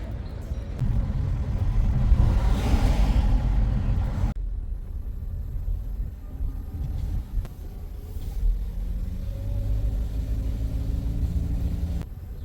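Car driving near Palma: a steady low rumble of engine and road noise fills the cabin, louder at first then settling into a constant drone after a sudden drop, with no talk.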